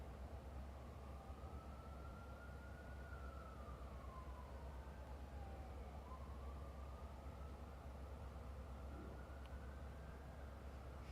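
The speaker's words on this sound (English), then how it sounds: "More siren!" Emergency vehicle sirens wail outside in the distance, a faint rising and falling tone over a steady low rumble.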